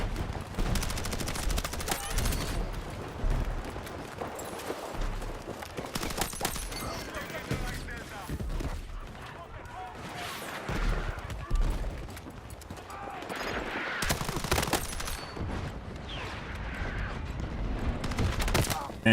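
Gunfire in the Battlefield 6 video game: bursts of automatic fire and scattered shots over constant battlefield noise, loud and dense, with a few heavier volleys throughout.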